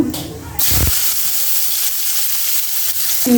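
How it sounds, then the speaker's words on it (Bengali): Cumin seeds dropped into hot oil in a home kitchen give a steady, close sizzling hiss that runs unbroken after a brief clatter at the start. "এই তেল দিয়ে দিছি তেলের মধ্যে জিরা দিয়ে দিছি"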